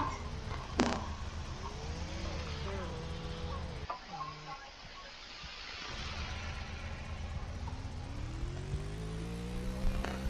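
Motorbike riding in the Roblox Jailbreak game, a continuous engine drone with rising and falling pitch as the bike revs and shifts, briefly dropping away mid-clip before building again, with game sounds over it.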